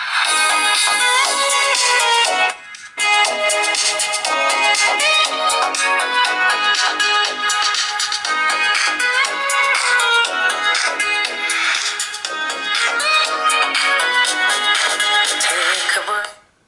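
Music plays loud and full from the small speaker of a Xiaomi Redmi Note 4 smartphone, running continuously apart from a brief dropout early on before cutting off at the end.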